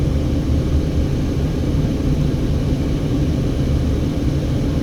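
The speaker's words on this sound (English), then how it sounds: "We're driving over the Hoover Dam." A car driving over the Hoover Dam on Interstate 11: a loud, steady engine and road rumble heard from inside, continuous and unbroken throughout, with no talking.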